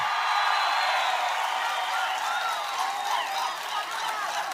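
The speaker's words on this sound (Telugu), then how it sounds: "ఆశీర్వదిస్తామని గట్టిగా చప్పట్లు కొట్టి చెప్పండి." A large crowd at an outdoor Janasena and TDP political rally in Kovvur claps loudly and steadily, a dense, continuous wash of applause throughout.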